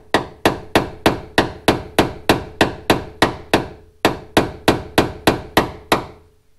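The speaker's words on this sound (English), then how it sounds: "So probably need the air hammer." An air hammer strikes door hinge pins on a two-door Chevrolet Tahoe, a loud, close series of about eighteen evenly spaced metallic blows with a brief pause midway.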